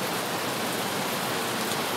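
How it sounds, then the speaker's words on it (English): Heavy rain hammers down on a sailing boat moored in Scottish waters, a dense, steady, loud hiss of drops with no voices. "earlier it wasn't raining, but now it certainly is"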